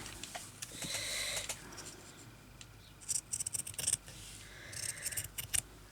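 Scissors cutting paper for a craft journal cover, a close series of quick crisp snips in two clusters, with a steady quiet room hum beneath.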